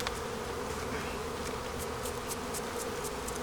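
A dense, continuous buzzing of many honey bees close by around a hive, with individual insects zipping past now and then.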